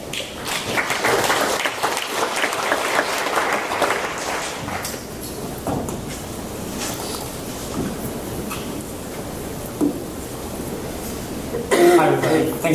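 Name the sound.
audience applause welcoming a speaker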